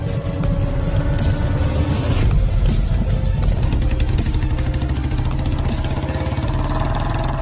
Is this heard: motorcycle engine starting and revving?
yes